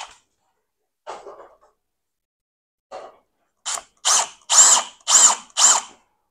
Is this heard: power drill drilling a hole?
yes